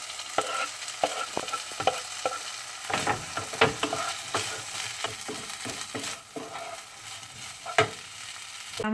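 Pineapple fried rice tossed and stirred in a hot pan, with a steady sizzle of frying under repeated scraping and clattering strokes of the spatula throughout.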